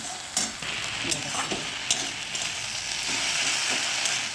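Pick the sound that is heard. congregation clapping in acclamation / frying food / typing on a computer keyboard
frying food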